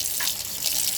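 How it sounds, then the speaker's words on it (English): Tap water runs into a bathroom sink in a steady, close, bright gush lasting the full second, with no talking over it. "so just run my water"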